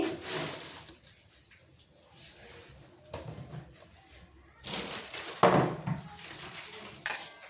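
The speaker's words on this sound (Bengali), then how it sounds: "সব আলু কটা আমি এইভাবে কাঁটা চামচ দিয়ে গর্ত করে নিলাম" A fork pricks holes in potatoes, giving irregular clinking taps and scrapes against a dish at close range, with a few sharper knocks toward the end.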